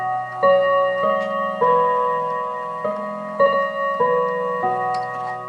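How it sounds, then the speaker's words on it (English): An antique Enfield Westminster chimes clock by James Walker Ltd rings a sequence of clear struck notes, about one every half second, each tone lingering and overlapping the next, heard close and alone with no speech. "as you can hear, the clock is ticking"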